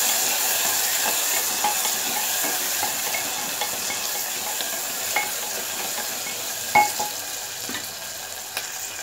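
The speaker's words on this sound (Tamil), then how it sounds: "இப்போ வந்து நம்ம தக்காளி சேர்த்துக்கலாம். தக்காளி நல்லா வதங்கட்டும்." Tomatoes sautéing with onions in a pan give a steady, fairly quiet sizzle with soft hiss, broken by a few light scrapes and clicks of stirring, most noticeably one sharper knock near the end.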